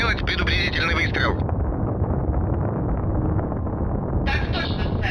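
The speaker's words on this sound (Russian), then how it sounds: "Сделать предупредительный выстрел." Heavy cannon fire from a warship in the space game Nexus, a loud sustained broadband boom rolling for several seconds as a warning shot, with dense low rumble throughout.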